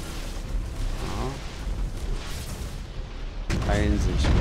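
Nova cannon salvos in the space strategy game Battlefleet Gothic: Armada 2 make a dense, rumbling barrage with a heavier booming burst near the end, under faint voices.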